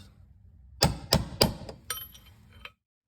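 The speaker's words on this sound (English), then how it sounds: "Take a little hammer with a punch and just kind of make sure that the clip is nice and snug" Three sharp metallic taps in steady succession from a small hammer on a punch seating a clip on a car's rear axle assembly, followed by a few lighter clicks, close and clear against a quiet background.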